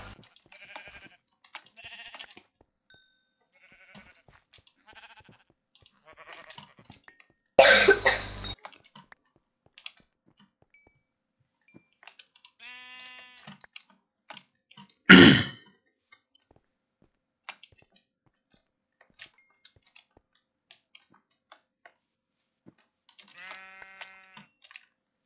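Minecraft sheep bleat in short wavering cries, once mid-way and again near the end, amid scattered keyboard and mouse clicks, with two sudden loud bursts of other game noise breaking in.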